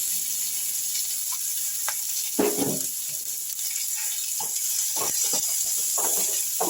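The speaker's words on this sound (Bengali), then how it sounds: "কারি পাতাটা যখন একটু ভাজা ভাজা হয়েছে তখন আমি তার মধ্যে কুচনো পেঁয়াজ দিয়ে দিলাম" Curry leaves, mustard seeds and chopped onion fry in hot tempering oil, producing a steady close sizzling hiss broken by a few brief crackles and pops, with no voices.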